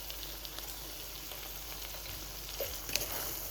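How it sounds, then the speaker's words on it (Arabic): A fettuccine seafood sauce with peppers and tomato sauce sizzles and fries in a pan, a steady soft crackle with occasional stirring clicks and no talk. "وبعد كده هنزل بالفلفل وصلصه الطماطم"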